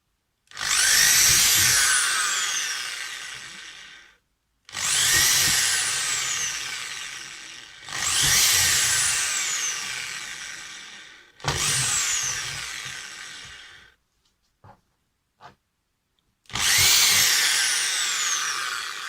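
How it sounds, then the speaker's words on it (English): A power drill whirs through material drilling holes in four long bursts, each starting loud and tapering off, with a short pause and a few faint clicks before the last burst. "So I'm gonna use the drill."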